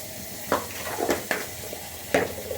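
Ground coriander and cumin powder tipped into a hot sizzling pan, a steady soft frying hiss with a few light clinks and scrapes of a spoon against the pan.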